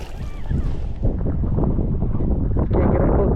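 Strong wind blows outdoors while bass fishing from a boat, a loud steady rushing roar with heavy buffeting on the microphone and faint water sounds underneath.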